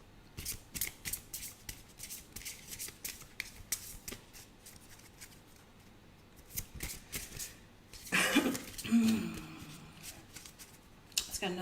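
Tarot cards shuffled and slapped together in quick, crisp riffling bursts, close by, with a heavier handling noise midway as a card is drawn, and a voice speaking briefly.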